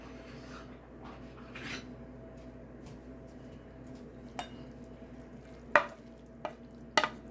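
Meat being stirred into a cheeseburger casserole in a pan, a soft steady scraping and mixing murmur with a few sharper utensil clicks and taps against the pan near the end.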